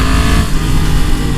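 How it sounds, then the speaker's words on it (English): A Yamaha MT-10 motorcycle with a freshly flashed ECU runs steadily close by, its engine note a loud, continuous drone with no pops or breaks. "Upon startup, the bike is quieter, and after it warms up, the RPMs are a bit lower"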